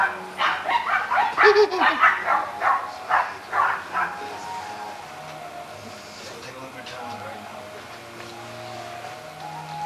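Rottweiler puppy, a blue-collared male from a litter, yipping and whimpering in a quick run of close, loud cries that fade into quieter background with some talk.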